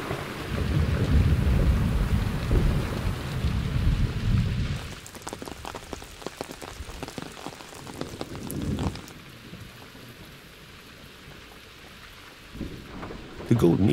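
A high-summer thunderstorm over Monfragüe: heavy rain hisses steadily while deep thunder rumbles loudly at first, then dense crackling rainfall patters on surfaces as the storm eases and swells again.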